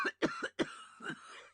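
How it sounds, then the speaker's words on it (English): A woman gives a terrible hollow cough, several harsh close bursts in quick succession followed by a rasping, drawn-out exhale. "A terrible hollow cough interrupted her words."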